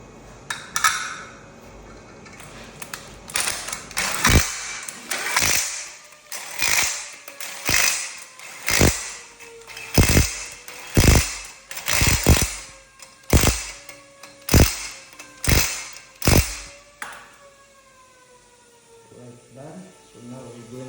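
Drilling into the flywheel of a GTR R35 VR38DETT crankshaft assembly during balancing, heard as a series of about a dozen sharp, loud bursts at fairly regular intervals over a faint mechanical hum, ending with a tone that winds down.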